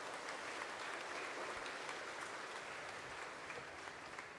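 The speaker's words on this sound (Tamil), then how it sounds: "நம்மளுடைய தமிழ் அப்போஸ்தலர் குழு கூட்டத்துக்கு ஒரு பெரிய கைத்தட்டை நாம் கொடுக்க வேண்டும்" Sustained applause from a congregation at a Tamil Pongal celebration Sunday Mass, honoring the Tamil apostolic committee; steady, dense clapping fills the room for several seconds without a break.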